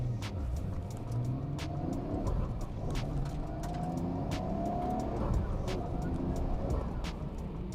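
A Nissan GT-R R34 drives a lap, its engine a steady sustained drone with shifting tone throughout, tyre and road noise mixed in, heard from inside the car without pause.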